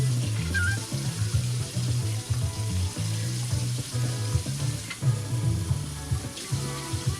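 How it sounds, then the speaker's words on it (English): Hot water is poured into a bowl of instant chicken ramen, a close, steady gurgling stream with fluctuating splashy pulses running throughout. "We're just gonna use some hot water."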